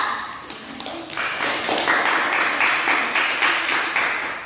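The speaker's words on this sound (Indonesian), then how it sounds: "kita tepuk tangan dulu untuk kelompok 2" A physics classroom full of students claps together, a dense wash of applause that swells after a brief start and holds steady at a moderate level.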